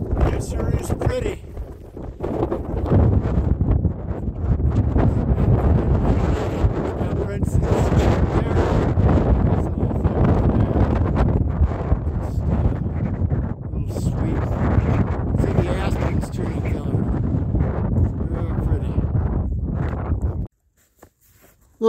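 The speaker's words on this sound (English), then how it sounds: "a little windy up here, that's no surprise" Strong, steady wind roars and buffets the microphone on a mountain ridge of Mt. Princeton, Colorado, for about twenty seconds, a continuous rushing blast that cuts off abruptly near the end.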